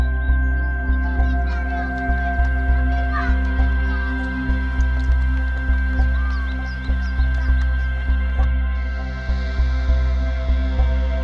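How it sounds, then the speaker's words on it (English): Birds call on a warm May morning in Logan, Utah, with harsh fowl-like calls and chirps over a loud, rhythmically pulsing low drone. "Birds are out. They fill the air with song."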